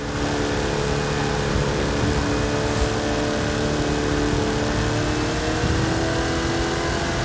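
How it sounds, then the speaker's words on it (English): A Hot Wheels car races in Forza Horizon 5, its engine droning steadily and loudly with layered harmonic tones throughout, no talk over it. "Upside down racing is the best kind of racing."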